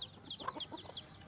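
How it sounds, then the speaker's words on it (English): Chickens clucking at feeding time, a quick run of soft close clucks and chirpy calls over faint background noise, lasting barely over a second. "They're feeding their chickens"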